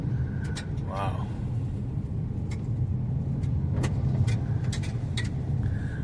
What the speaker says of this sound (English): We are kicking up rocks, but we do have the skid plates.